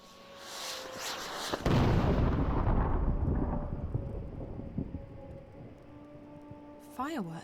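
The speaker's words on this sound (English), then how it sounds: "Fireworks? Maybe they're celebrating something." Deep booming bursts of fireworks in the video game Dreamfall erupt and roll on, loud and rumbling, then fade slowly over a faint steady tonal backdrop.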